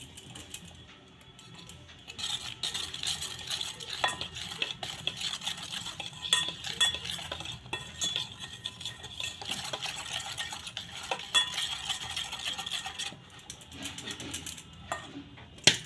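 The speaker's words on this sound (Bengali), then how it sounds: "তেলের মধ্যে ভালো করে চিনিটা গুলে নেব" Powdered sugar being stirred into oil in a bowl for an eggless Christmas fruit cake: a spoon scrapes and clinks against the bowl in a steady, busy rhythm for the whole stretch, close and fairly quiet, with no talking.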